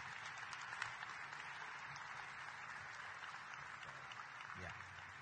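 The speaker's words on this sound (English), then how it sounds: "So will you applaud our deans?" Faint, distant applause from a commencement audience honoring the deans at a winter ceremony, a steady even patter of clapping heard at low level, with a brief low voice-like sound near the end.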